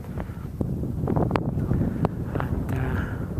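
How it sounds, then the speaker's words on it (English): Wind funnelled up from a gorge at Balykchy, Kyrgyzstan, rushing steadily across an outdoor microphone with a continuous broadband roar and occasional buffeting gusts, no voices present. "it is a very subtle wind that can be caught here in particular areas as it's channeled up from the gorge"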